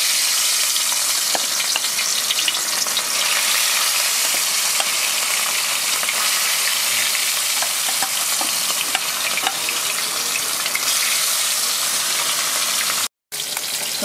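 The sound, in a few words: katla fish frying in oil in a wok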